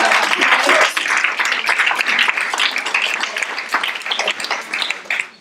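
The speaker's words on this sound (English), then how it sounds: "Can we have a round of applause for Mary?" An audience at an event on affordable housing in Minnesota breaks into applause, close and loud at first, then thinning out and fading toward the end.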